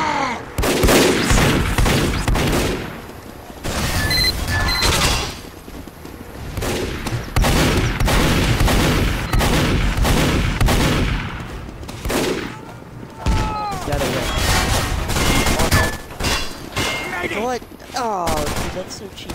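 A sentry gun fires rapid automatic bursts in a first-person shooter game, loud and repeated in several volleys with short pauses, while a player talks over the gunfire.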